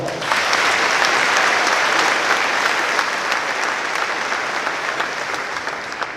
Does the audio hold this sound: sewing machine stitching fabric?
no